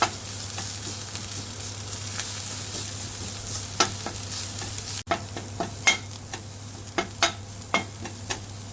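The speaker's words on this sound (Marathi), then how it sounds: "थोडासा परतून घेऊया सर्वांना" Drumsticks sauté with red chili powder and garam masala in a pan under a steady close sizzle, while spatula scrapes grow sharper and more frequent toward the end. No one talks.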